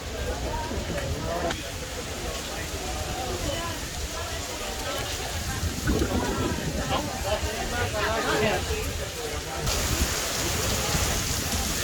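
Steady rain pours at Walt Disney World's Magic Kingdom in July, a continuous broadband hiss heard from under a covered shelter, with crowd babble and voices talking throughout.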